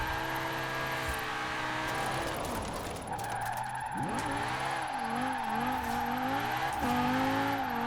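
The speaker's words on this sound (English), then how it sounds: "Yeah, I'm pretty sure this is Lamborghini engine." A rear-wheel-drive Audi in Forza Horizon 4 fitted with a Lamborghini-style engine revs hard and loud, rising and falling through quick gear changes, with tire squeal as it slides sideways.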